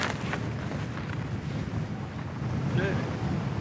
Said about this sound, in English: The wind's pretty much about 35, 40 miles an hour right now, and it gives us a lot of technical problems